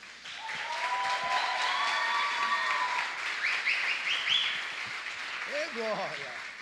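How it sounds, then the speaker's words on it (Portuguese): Church conference crowd applauds in welcome for a pastor taking the stage, a broad steady clapping wash with cheering and whoops on top, fading toward the end as a voice begins to speak. "Eu quero que você receba assim, com bastante alegria, uma forte salva de palmas"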